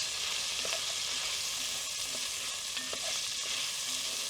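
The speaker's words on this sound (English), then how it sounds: "So in goes the shallots and also the garlic heads." Shallots and garlic heads sizzle in a hot pan in a brief, faint, even hiss, with a few light taps and scrapes and no talk.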